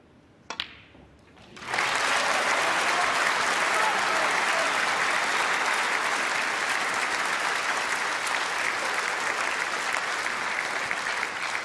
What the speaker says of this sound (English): he'll get a terrific round of applause if the black goes in